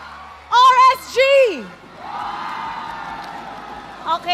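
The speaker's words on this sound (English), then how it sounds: "Okay, we heard the crowd." A crowd at an MPL Philippines Mobile Legends esports playoff yells and whoops in loud bursts, then settles into a sustained cheering roar, with a few more shouts breaking out at the end.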